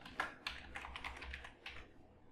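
Quiet typing on a computer keyboard, a short burst of several light key clicks in irregular rhythm over about two seconds, close and alone.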